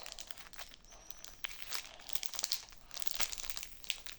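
Packaging crinkling and rustling while a box is opened, close and fairly quiet, with continuous crackly handling and small tearing bursts.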